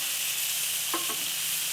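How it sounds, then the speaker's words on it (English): Onions sizzle on a Blackstone griddle, a steady loud hiss close by with a couple of faint clicks partway through, no voices. "Let me flip my onions. Oh yeah. Look at that nice grilled onion."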